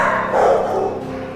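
Dogs at a shelter housing huskies, pointers and other strays give a short burst of barking and whimpering. The barking is close and fairly loud, with no talk over it.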